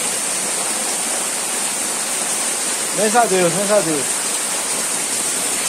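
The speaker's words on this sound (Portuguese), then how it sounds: "Chuva grossa, do nada aqui" Heavy, sudden rain pouring down in Ceará, a dense steady roar that fills the whole clip, with a short spoken remark rising over it midway.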